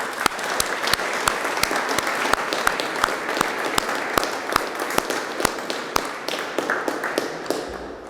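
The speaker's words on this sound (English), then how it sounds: "I think we owe them a round of applause." Audience applause at an observatory time capsule ceremony, with steady clapping and sharp individual claps standing out in an irregular rhythm throughout.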